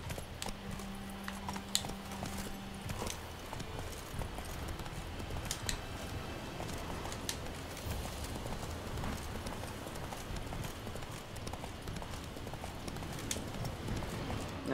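Hooves of the horse Roach clip-clopping at a steady gallop in The Witcher 3, a continuous rhythmic patter with game ambience and a low hum beneath, and no speech.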